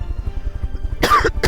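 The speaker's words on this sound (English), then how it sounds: "This cough." Two sharp, loud coughs close to the microphone come after a low, rhythmic rumble.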